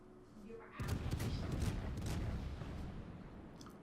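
Naval gunfire in World of Warships from a Kutuzov cruiser, a sudden heavy boom followed by a rumbling, crackling salvo that lingers and slowly tails off.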